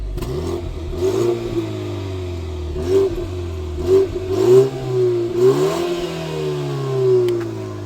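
A stock BMW G20 320i with a gasoline particulate filter revs in park, heard from outside the car: several rising throttle blips swell over a steady idle drone, with the loudest pulls in the middle and one near the end.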